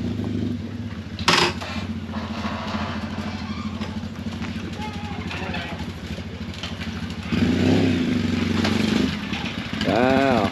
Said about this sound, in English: Oop, sounds like a triumph's pulling in.